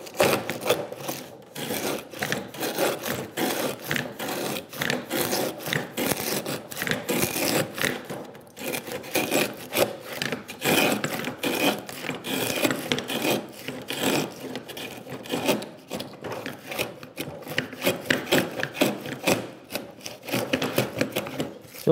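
A hand router pares wood on a workbench, giving a steady, close rasping scrape in quick strokes that rise and fall continuously with no talk.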